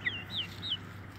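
Three thin, high chick cheeps, each a short falling chirp, heard close and fairly soft over a low background hum.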